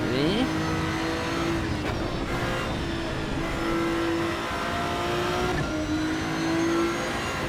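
A race car in the Assetto Corsa EVO racing game screams along at high revs, with the engine note rising and falling through gear changes and corners, loud and continuous with no talk.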